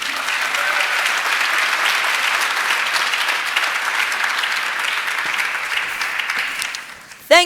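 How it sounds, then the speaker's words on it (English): Sustained applause from the audience at the YMCA World Council for newly elected executive committee members, dense, even clapping that stays steady before fading near the end, followed by a brief voice. "keep that round of applause going for our new executive committee members"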